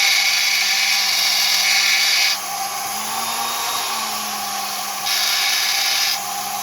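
Fire agate stone ground on a 120 to 150 grit wheel, a steady whirring grind with rising contact bursts near the start and end, loud and continuous without talk.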